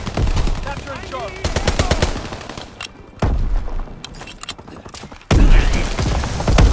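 Strafing-run gunfire in Call of Duty WWII on the Shipment 1944 map, heard as loud rapid machine-gun bursts in several separate stretches with booms and game sound between them.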